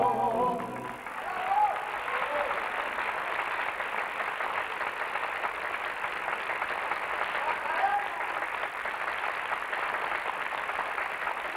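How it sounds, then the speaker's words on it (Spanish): Steady audience applause for a singer at a 1992 performance, a continuous even wash of clapping from a crowd, moderately distant. "Compartimos este fervor del público en este aplauso"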